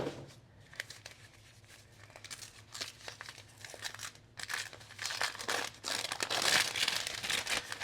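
Crinkly plastic packaging of new leatherworking tools is torn and unwrapped up close, with irregular bursts of crackling and crumpling that grow louder and denser toward the end.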